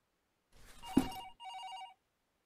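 A telephone rings faintly in the horror game Paranormal HK as two short electronic trilling bursts with a thump between them, quiet and isolated against silence.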